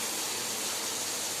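Onions, tomatoes, garlic and curry leaves sautéing in a pan give a steady, close sizzling hiss that holds evenly throughout, with no voices.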